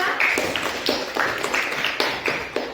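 A small classroom audience gives group 2 a round of applause, a few people clapping in a quick, uneven rhythm nearby.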